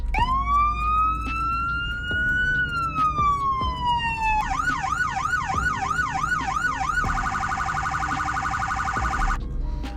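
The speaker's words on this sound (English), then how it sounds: "As you can see, they did get new sirens." Police car sirens in the Greenville video game, a rising and falling wail giving way to a rapid yelp and then a fast high-low tone, loud and continuous throughout with no talking.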